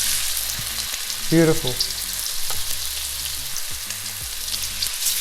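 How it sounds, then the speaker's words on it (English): Chunks of sea bass sizzle gently in a moderately hot frying pan for an Indian fish curry, a soft steady frying hiss with a brief louder clatter as pieces go in and a short spoken word. "to add the fish, and you can hear it sizzle slightly."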